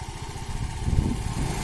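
A 50 cc scooter engine runs steadily through a turn, a close, buzzy low drone with slight surges in throttle and no talk over it.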